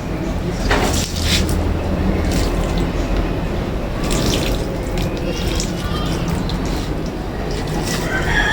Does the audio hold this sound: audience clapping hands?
no